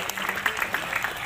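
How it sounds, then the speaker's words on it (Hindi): Audience clapping to welcome local councillors onto the stage at a Khairagarh political rally, a steady broadband patter of many hands throughout, fairly faint and distant, with no voices over it. "ताली बजा के स्वागत करिए"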